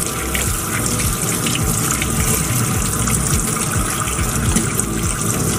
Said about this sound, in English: And then we're just gonna rinse her off.